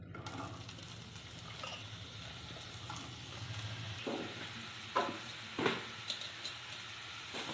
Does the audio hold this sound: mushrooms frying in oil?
yes